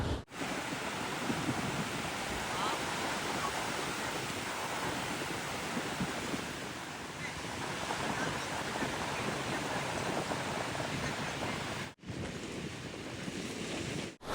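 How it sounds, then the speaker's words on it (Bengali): Strong wind buffeting across an open sea beach with sand dunes, a dense continuous roar mixed with surf, loud and unbroken apart from a brief dropout near the end. "এখন কিন্তু প্রচণ্ড গরম পড়েছে, কিন্তু এখানে বিশাল হাওয়া"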